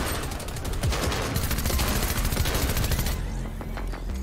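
Rapid gunfire from a Call of Duty style mode in Fortnite, dense automatic bursts crackling continuously and close for several seconds before easing off into scattered, fainter shots.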